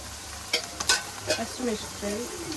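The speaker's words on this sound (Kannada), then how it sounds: "ಈಗ ಟೊಮೊಟೊ, ಕ್ಯಾಪ್ಸಿಕಮ್ ಎಲ್ಲ ಹಾಕ್ಕೊಂಡು ಫ್ರೈ ಮಾಡ್ಕೊಬೇಕು" Tomato and capsicum stir-fried in a pan, soft sizzling under a few sharp scrapes and clinks of a spatula against the pan, close and moderately loud.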